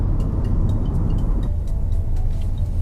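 A 1-litre turbo petrol Hyundai i20 drives along, its engine and road rumble forming a loud, steady low drone heard from inside the cabin, with a slight change in tone partway through.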